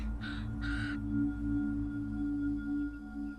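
A raven gives two harsh, rasping caws in quick succession, then falls quiet over a steady low hum.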